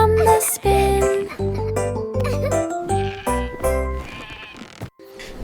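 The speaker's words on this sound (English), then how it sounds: "Baa, black sheep pulled some wool" Sheep bleating in a nursery rhyme song for kids, with repeated loud baa calls over bouncy music and sung vocals.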